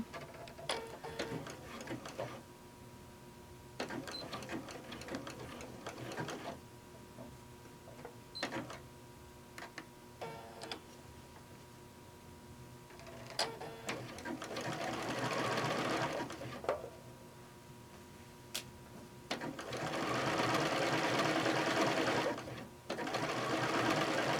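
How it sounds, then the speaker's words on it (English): A wide-swinging sewing machine works a feather stitch across fabric for a small cloth book, starting with short stop-start runs and then settling into longer, louder continuous stitching. "this is my feather stitch"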